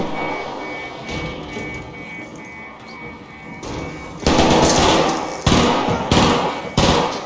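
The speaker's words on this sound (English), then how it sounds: "I witnessed a battle between two raiders, a trade of bullets and smoke" Gunfire exchanged between raiders in Arc Raiders: quiet game ambience at first, then loud, close bursts of shots from about halfway on, ending in several separate heavy reports.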